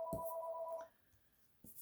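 A phone ringtone sounds close by, a steady two-tone electronic ring that cuts off, followed by short clicks and a quiet pause.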